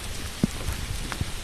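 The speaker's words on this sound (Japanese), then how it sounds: "やばいや、雨が強くなってきた。" Heavy rain pours down outdoors at night in a hilltop park, a dense steady hiss of drops striking surfaces, with a couple of brief louder thuds of nearby drips.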